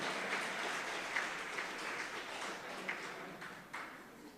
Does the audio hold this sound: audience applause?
yes